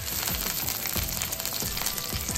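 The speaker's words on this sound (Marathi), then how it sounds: "आता आपल्याला टाकायचं आहे तेल आणि मग टाकायचं आहे तडकायचं" Oil heating in a pan for a tempering with cumin seeds, giving a steady, close crackling sizzle with soft repeated stirring scrapes throughout.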